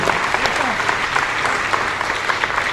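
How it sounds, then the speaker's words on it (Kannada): Loud audience applause at a Kala Vaibhava cultural event in Ballari, after a beatbox performance: dense, steady clapping from a large crowd filling the whole stretch without a break. "ಒಂದ್ಸಲ ಚಪ್ಪಾಳೆ ಹೊಡಿದೆ ಜೋರಾಗಿ"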